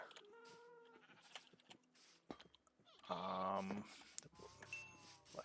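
Several short Minecraft sheep bleats come one after another, with a louder, longer bleat in the middle over a quiet background.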